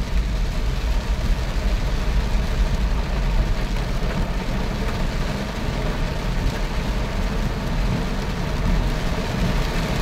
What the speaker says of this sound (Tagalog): Grabing ulan yan, no? Walang kasawa-sawa.